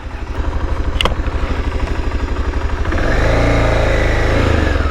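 A motorcycle pulls away from a roadside café, its engine chugging in a steady idle pulse before the revs climb into a louder, smoother drone near the rider.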